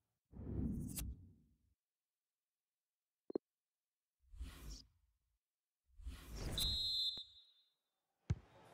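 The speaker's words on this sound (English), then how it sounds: "So there goes the whistle." A referee's whistle in the FIFA 19 video game signals the start of the second half of a Premier League match between Manchester United and Liverpool. A single long, clear whistle blast sounds amid brief crowd noise and whooshing bursts.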